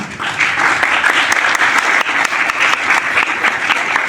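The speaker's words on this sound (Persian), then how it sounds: "من اسم میبرم لطفاً تشویقشون بفرمایید" An audience at a lecture and gathering on Persian art and tradition applauds, with dense, steady clapping from many hands. The applause is loud and sustains throughout, without a break.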